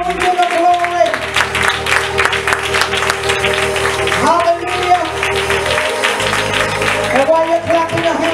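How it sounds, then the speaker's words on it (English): Church congregation clapping their hands in worship at a women's conference, a dense, steady wash of applause running throughout beneath music and a voice. "as we clap our hands, we give God glory in here"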